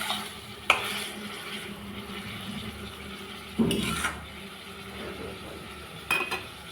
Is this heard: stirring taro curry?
yes